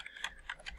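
A few quiet, evenly spaced clicks of computer keyboard typing, close but faint, with no voice.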